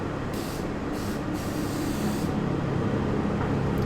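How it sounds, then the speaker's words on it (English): Aerosol spray can misting a geode craft, steady close hiss with a few short bursts and one longer spray, over a constant background rumble. "So I'm going to actually spray this out the window real quick"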